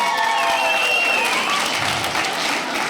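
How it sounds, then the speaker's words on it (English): A comedy club audience at a stand-up show claps loudly and continuously, a dense wash of applause with some crowd noise throughout. "Clap if you don't like cats."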